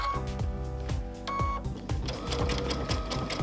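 A sewing machine runs a blanket stitch for raw edge appliqué without tearaway stabilizer, giving a steady, close mechanical chatter with regular needle clicks throughout.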